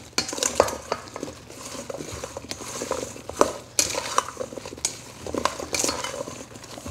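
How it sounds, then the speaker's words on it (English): Meatloaf ingredients being mixed with salt and pepper, a steady run of close scraping and clinking of a utensil against a bowl with irregular sharper taps, no talking. "Then we're gonna give this a quick mix just to kind of get it all coated."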